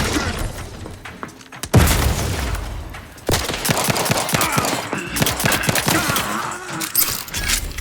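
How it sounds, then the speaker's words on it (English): Explosions and bursts of gunfire erupt in The Outer Worlds 2 combat, a heavy boom followed by rapid, dense rattling shots and crackling impacts that continue steadily. "An explosion!"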